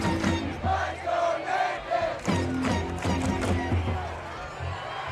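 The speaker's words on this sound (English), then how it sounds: "Student section cheering on the quarterback." A high school football student section cheers for the quarterback in a game between Grace Christian Academy and Chattanooga Christian, with loud, sustained crowd roars and shouts rising and falling through the stands.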